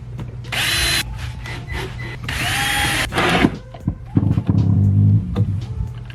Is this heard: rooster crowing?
no